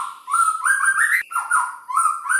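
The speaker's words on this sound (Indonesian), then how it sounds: "sekarang ini baru subuh dan burung yang saya sendirikan ini udah gacor-gacor" A white-rumped shama sings at dawn, loud, clear whistled phrases up close, repeating rising and falling notes with short breaks between them.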